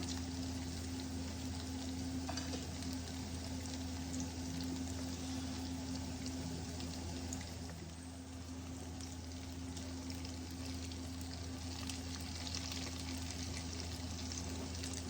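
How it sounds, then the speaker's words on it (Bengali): Chilli garlic potato bites fry in oil over low heat, a continuous, even sizzle with a low steady hum underneath throughout. "চিলি গার্লিক পটেটো বাইটস আমার ফ্রাই হচ্ছে।"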